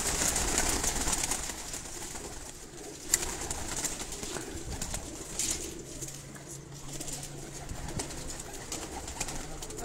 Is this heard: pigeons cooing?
yes